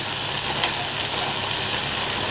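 Cluster beans frying in oil for a simple palya, giving a steady, soft hiss of sizzling across the whole moment with one brief louder crackle near the start and no talking.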